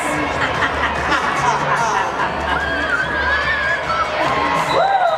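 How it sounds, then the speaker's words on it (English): A crowd yells and cheers in a continuous noisy roar, with a few higher shouts rising above the din. "You can hear the crowd yelling"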